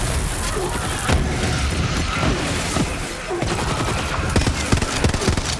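Rapid bursts of automatic gunfire and impacts from Borderlands 3 combat as enemies are shot, with a voice talking throughout.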